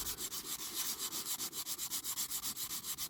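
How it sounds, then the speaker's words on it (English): Rapid, regular back-and-forth scraping of a sanding stick rubbing on a diecast metal Dinky Toys Austin Princess model, close up, with a steady rhythm and no voices. "so just get your sanding stick"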